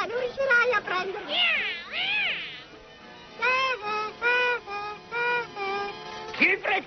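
An animated cartoon cat gives a string of drawn-out, rising and falling meows and yowls in short bursts with brief pauses between them.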